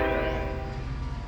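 A passing train sounds its horn: a loud, sustained multi-tone blast over the low rumble of rolling rail cars, close by.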